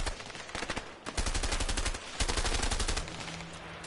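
Rapid automatic gunfire in a multiplayer shooter video game, sustained bursts of loud, close, rattling shots with short gaps between volleys.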